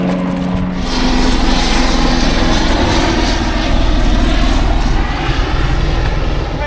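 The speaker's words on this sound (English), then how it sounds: "We got this helicopter we saw yesterday." A helicopter flies overhead near an anchored boat on open water, its engine and rotor making a loud, steady broadband roar that swells slightly and stays close throughout.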